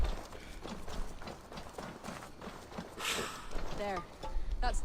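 Horse hooves clip-clopping in the video game Assassin's Creed Valhalla, a quiet steady walking rhythm of hoofbeats with background game sounds and a few brief louder effects.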